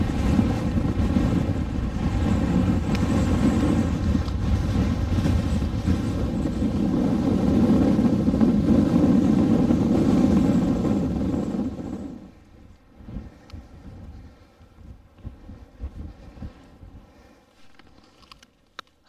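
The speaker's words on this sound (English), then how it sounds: "it's pretty windy up here." Strong wind on a mountain top in the Glenshee hills, Scotland, roars and buffets the microphone steadily, then drops off abruptly to a few faint, scattered gusts.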